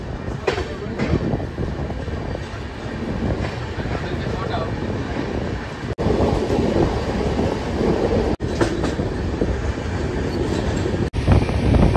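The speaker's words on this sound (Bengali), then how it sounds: "আমাদের ট্রেন ছেড়ে দিল নিউ ফারাক্কা জাংশন থেকে" A Saraighat Express train rumbles continuously on the tracks after leaving New Farakka Junction, loud and close, with a steady clattering roar for the whole stretch.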